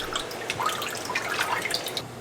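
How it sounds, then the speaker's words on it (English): Water drains and drips from freshly rinsed Ai Cao mugwort young shoots, a soft, close trickle with light scattered droplets and small splashes, with no speech. "Drain the water well."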